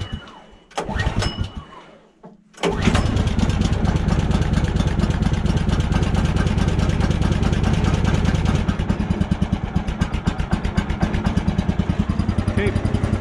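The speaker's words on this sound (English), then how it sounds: "Next thing we're gonna do is fire up the engine." A Woodland Mills HM130 portable sawmill's gas engine coughs through a couple of short pull attempts, catches, and settles into a loud, steady, rapid close-up chugging run.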